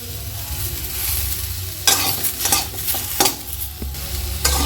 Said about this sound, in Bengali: এটাকে একটু নাড়াচাড়া করে নুন দিয়ে দেবো